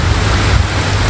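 Heavy rain pours down in a Thai village, producing a dense, loud, steady hiss of drops hitting surfaces, continuous through a short stretch with no voices.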